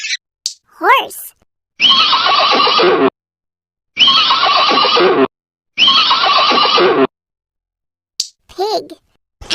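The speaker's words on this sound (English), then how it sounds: "Horse." A horse neighs three times in long, loud whinnies spaced by short silences, with a brief spoken voice at the start and end.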